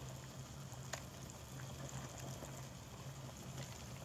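Cauliflower cooking broth poured from the pot into a separate container makes a steady, watery wash, with a low hum from the kitchen underneath and no voices.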